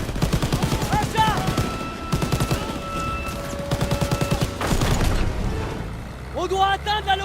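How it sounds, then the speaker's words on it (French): Rapid bursts of gunfire ring out in a Call of Duty WWII battle on a moving train, loud and dense, with repeated volleys through the whole stretch while French-speaking soldiers shout over the shooting. "Continue à tirer!"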